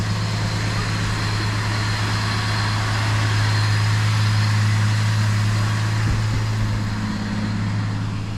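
A 1970 Plymouth Valiant engine idles steadily and close, a deep continuous hum holding an even level, with a brief knock near the end.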